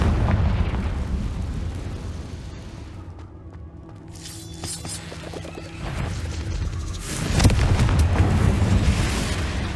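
Confringo blasting spell from Hogwarts Legacy on PS5 bursts with a loud, crashing explosion at the start, then another heavy boom and rumble near the end amid continuous battle noise.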